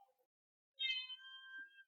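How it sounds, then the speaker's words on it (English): A house cat gives one drawn-out, agitated meow, near and clear in an otherwise quiet room, rising sharply and holding for about a second before trailing off. "Apparently we made the cat angry"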